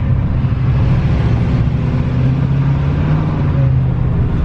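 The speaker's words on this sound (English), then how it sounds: "So I have that on tow mode, and I have the engine brake going." Truck engine running in tow mode with the engine brake engaged and a turbo audible, a steady, loud low rumble that holds evenly throughout without breaks.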